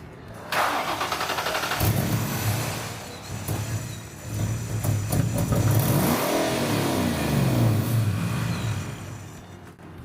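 A Ford Mustang GT in a garage cranks and fires up after engine repair work, then settles into a loud close idle and swells through several throaty revs, with no talking.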